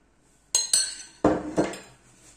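Brownie batter of chocolate and melted butter being mixed in a bowl: four sharp utensil knocks against the dish, spaced about half a second apart, close and fairly loud, each trailing into a brief scrape.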